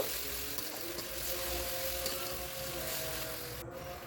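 Onion with ginger and garlic paste sizzles steadily in a hot pan, a dense, continuous frying hiss close up with faint stirring and no talk.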